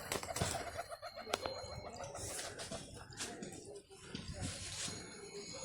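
Pigeons coo and flutter close by, mixed with steady background chatter and movement.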